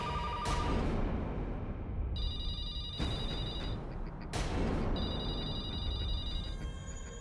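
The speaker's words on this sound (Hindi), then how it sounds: "फोन मत उठाना, कोई फोन मत उठाना।" A telephone rings in repeated shrill electronic bursts inside a spooky jungle temple. The bursts are spaced about every two to three seconds over a loud, rumbling dramatic background.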